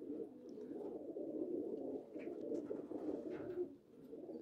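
Pigeons cooing, several soft, low, throaty coos repeating in a steady rolling pattern at close range, quiet overall, with a few faint chirps and small noises in the background.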